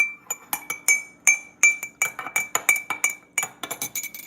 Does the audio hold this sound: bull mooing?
no